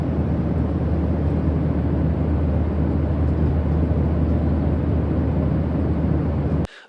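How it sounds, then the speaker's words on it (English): Steady, loud broadband engine drone inside an airliner cabin during a Brisbane to Perth flight, a continuous low rumble with no talk that cuts off abruptly near the end. "I could hear the drone of the plane pretty loudly through the earbuds"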